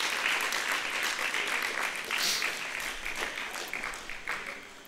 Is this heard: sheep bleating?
no